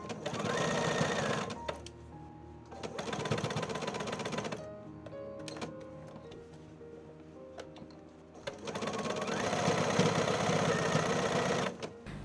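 A domestic sewing machine stitches a blouson neckline in bursts of rapid, even mechanical chatter, pausing twice for several seconds between runs, close and clear.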